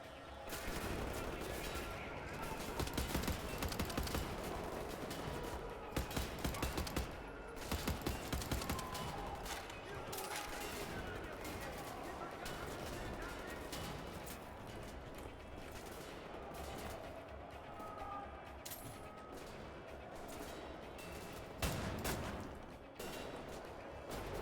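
Repeated gunfire from a shotgun and other weapons in Wolfenstein: The New Order, a long stretch of loud shots and blasts in close succession amid continuous combat noise.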